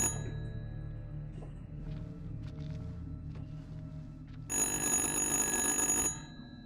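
A telephone rings in the horror game Little Hope, a bright, loud electronic ring bursting in over a low ambient drone and faint clinks, then cutting off after about a second and a half.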